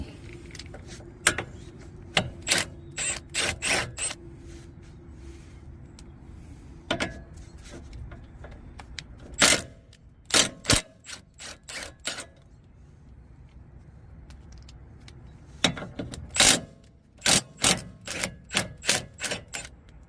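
Metal clicks and ratcheting from wrenching off three 17mm nuts and a bolt on a Toyota Corolla CV axle, loud sharp bursts of rapid clicks separated by quieter pauses, close up with no talking.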